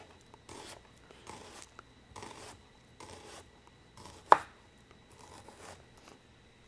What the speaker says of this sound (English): What I do first is I peel and cut up the onions. And right now I'm using a Rada chef knife.